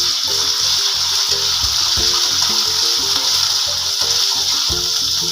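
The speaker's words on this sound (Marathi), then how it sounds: "आता हे अद्रकचा आणि ओल्या मिरचीचा ठेचा आपण पहिला गरम करायला टाकूया।" Ginger and green chili paste sizzles steadily in hot oil, a continuous bright crackling hiss with faint low stirring and clinking underneath, close and fairly loud throughout.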